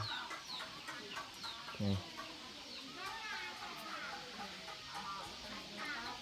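Chickens cluck and chatter in a rural Thai home yard, a busy, moderately distant flock of short repeated calls over a constant noisy background, with a brief low thump partway through.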